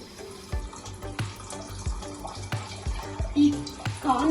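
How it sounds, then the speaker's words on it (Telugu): Water pours into a pan holding a tablespoon of oil on a lit stove while crispy corn is being made, a steady splashing gush with a few clinks, fairly close and moderately loud. "ఇందులో నేను వాటర్ వేస్తున్నా."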